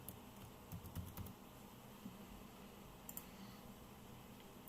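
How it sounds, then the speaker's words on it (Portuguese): Someone types a password on a computer keyboard at a login screen. Quiet, scattered key clicks come in short clusters against a soft background hiss. "Agora eu vou digitar a senha correta."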